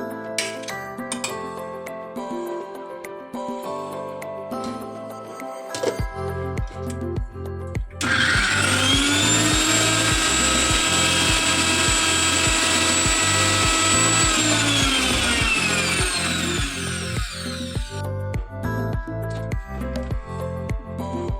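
A kitchen mixer grinder whirs loudly for about seven seconds as it blends salted raw mango chutney, starting and stopping abruptly. Background music plays before and after the grinding.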